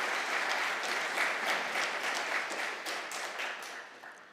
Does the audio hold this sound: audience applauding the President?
yes